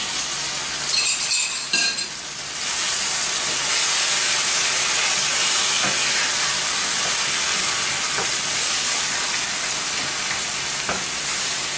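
Tomatoes sizzle and hiss steadily in hot oil in a pan while a hot dog filling is being cooked, with a louder burst of frying near the start and a constant close crackle throughout.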